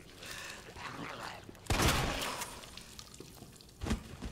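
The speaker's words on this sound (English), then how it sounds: "just get a good shot off on him" Gunfire in the zombie survival game Resident Evil 2 comes as one loud burst with a trailing rumble, then a second shorter blast, over a constant bed of game ambience and a player's voice.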